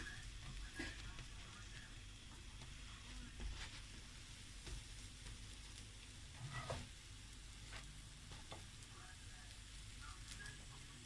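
Vegetable pancake frying in a pan, a steady soft sizzle running throughout with occasional light scrapes and taps as it is pressed down, fairly quiet and close.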